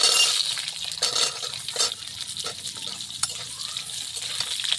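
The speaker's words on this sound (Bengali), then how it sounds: "একসঙ্গে ভাজবো আলু কাটা।" Cut potatoes frying in mustard oil in a wok, a loud close sizzle with crackling bursts and occasional metal clinks from stirring, steady throughout without speech.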